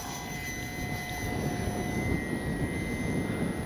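An FMS PC-21 Pilatus RC model plane flies on a windy day, its electric motor giving a thin, steady whine at moderate distance over constant wind rumble, with no talk.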